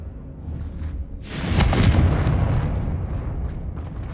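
A Confringo fire spell bursts in the Hogwarts Legacy video game, a single loud whooshing blast that erupts after a quiet moment and trails off into a rumbling fade.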